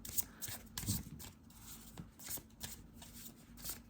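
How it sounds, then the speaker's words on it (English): Tarot cards are shuffled softly and close by in quick riffling bursts, faint and quiet with no talking. "I will pull 3 cards for advices"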